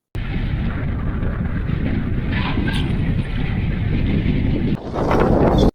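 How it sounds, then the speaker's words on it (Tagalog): Strong northeast monsoon wind blowing over the sea, a loud continuous roaring buffet against the microphone that swells and briefly dips before gusting harder near the end. "nakakaduling magtingin at nakakabingi sa sobrang lakas ng hangin"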